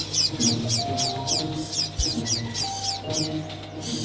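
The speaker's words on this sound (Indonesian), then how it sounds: "Oh, bagus sekali suara burung Parkit itu." A parakeet sings in rapid, high chirps that repeat in a steady rhythm, one after another, over a low background hum.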